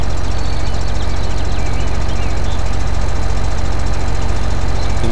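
A Magnum tractor engine runs steadily in a farming video game, a loud, constant low idling drone with a fast mechanical pulse that holds throughout with no voices.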